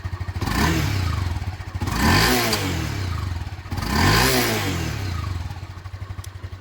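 A Honda CB300F motorcycle engine revs up twice in sharp bursts, its pitch climbing then falling back to a deep, throbbing, bassy idle between them, loud and close.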